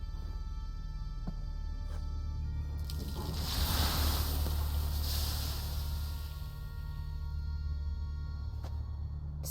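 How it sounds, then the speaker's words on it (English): Water thrown onto hot sauna coals in The Witcher 3 gives a rising steamy hiss that swells for a few seconds over a low steady rumble, then fades back, with faint clicks around it. "Gotta douse the coals."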